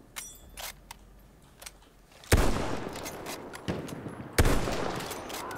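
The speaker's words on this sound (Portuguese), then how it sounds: "Tem um cara embaixo atirando." Gunfire from an enemy positioned below in the video game Battlefield 1, with a few sharp, loud shots separated by pauses, each followed by a rough decaying tail, after quieter clicks and small noises.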